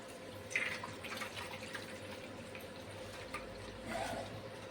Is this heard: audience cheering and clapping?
no